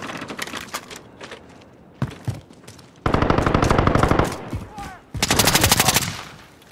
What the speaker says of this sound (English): Friendly! Stop shooting!